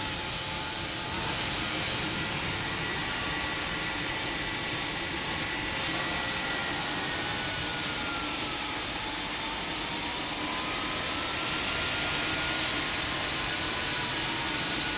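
Steady airplane engine roar in the Pilot Training Flight Simulator game, a continuous droning whine with shifting tones that holds level throughout, loud and close with no talk.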